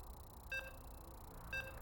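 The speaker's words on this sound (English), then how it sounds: "You can hear the beeps. We're loading in." Two short electronic beeps play during StarCraft 2 loading, about one second apart, each a bright tonal blip over a faint, steady background hum.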